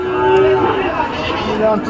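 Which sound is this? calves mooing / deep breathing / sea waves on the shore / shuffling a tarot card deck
calves mooing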